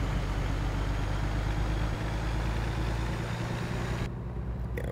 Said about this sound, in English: it's not a massively powerful engine, this 400 horsepower